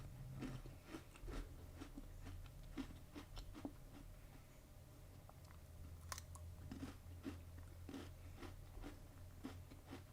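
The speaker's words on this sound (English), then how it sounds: "These cookies are so good. The little thin Oreos." Crunchy, crispy thin Oreo cookies are chewed close to the mic in a quiet room, with a steady run of soft crunches and bites.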